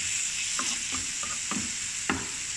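Tomatoes and egg fry in a pan, a steady sizzle marked by five or six distinct spatula scrapes and taps at an uneven pace, with no voices.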